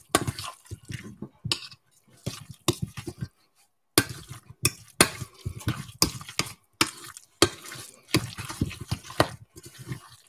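A spoon works through a coarse mashed side dish mixture, giving irregular soft scrapes, wet squelches and clinks against the pot in short uneven bursts, close and fairly quiet, with brief pauses.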